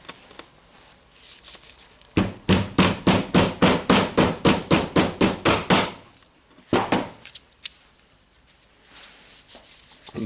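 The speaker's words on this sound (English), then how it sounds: "You can hammer it on an inner ball bearing ring" A steady run of about fifteen sharp metallic hammer blows drives a ball bearing onto its inner ring using a long socket on a Makita 18V LXT DDF456 drill part, close and evenly spaced, followed by two more blows after a pause.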